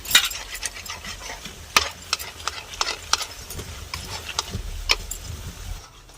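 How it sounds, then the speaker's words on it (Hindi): Gulab jamun mixture stirred in a pan with a spoon: irregular scraping clicks and taps over a soft sizzle-like hiss, moderately close and continuous, with no talk. "और अब हम चलाएंगे इस तरह से।"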